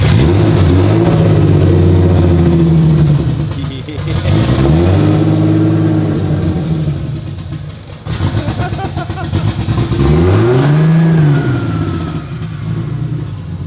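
A turbocharged Lexus IS300 engine revs hard several times on its first start, pitch climbing and falling in surges with brief dips between, loud and close.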